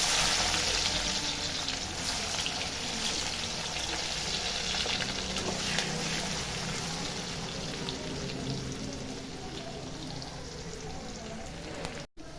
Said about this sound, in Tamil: இந்த கருணக்கிழங்கு வறுத்த எண்ணெயிலேயே இந்த மசாலாலாம் போட்டேன்